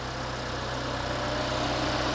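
A car engine idles with a steady, even low hum and faint vibration, close by and unbroken throughout.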